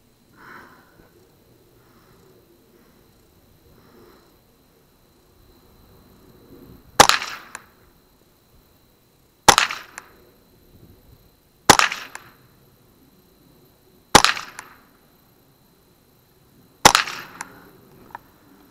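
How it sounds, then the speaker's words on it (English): Five loud, sharp rifle or pistol reports from old ammunition fired at a target 20 yards downrange, evenly spaced about two to three seconds apart, each with a brief ringing decay, and no talking. "let's go ahead and shoot five down range at the target."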